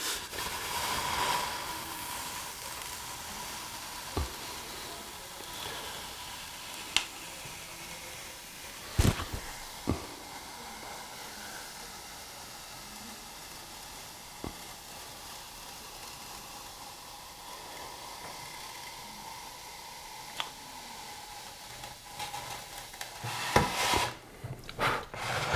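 A Vevor hot wire cutter slices through a sheet of foam about 10 inches high, giving a steady low hiss with faint rubbing, punctuated by a few sharp clicks and a louder burst of handling noise near the end.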